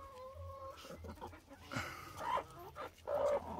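Backyard chickens and a rooster, mixed hens in a farm flock, giving a few scattered clucks and short calls against a quiet background.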